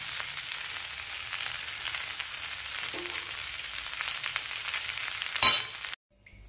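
Green peas frying in ghee with cumin for pea pulao, an even sizzle in the pan for several seconds, then a sharp clink before it cuts to silence.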